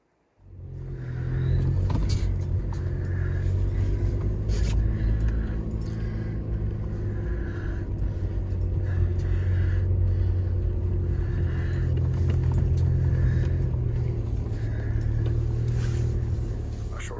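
A parked car's engine idles steadily from start to finish, a loud, even low rumble close by with faint repeating mid-range pulses over it.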